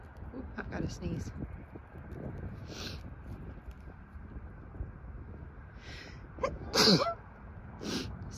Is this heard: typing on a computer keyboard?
no